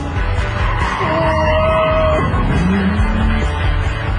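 Tires squeal as a cheap used convertible slides sideways on a test track, a loud sustained skid riding over steady engine roar, with a rising whine near the end.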